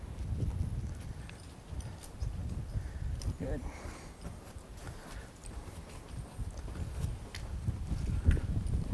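Horse hooves clip-clopping at a steady walk on the ground during a training session, a low rhythmic patter that goes on throughout, with people talking intermittently over it.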